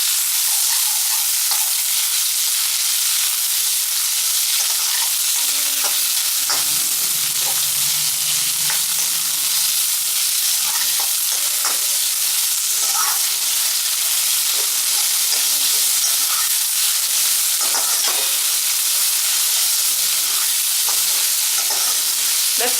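Onions and urad dal sizzle and fry steadily in a hot pan, a loud continuous crackling hiss with occasional stirring scrapes close by, no voices.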